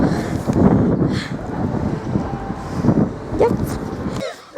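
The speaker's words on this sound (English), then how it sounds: "Okay, guys, it was so windy." Strong gusts buffet an outdoor microphone, producing a loud, continuous rumbling roar with uneven surges that drops away abruptly just before the end.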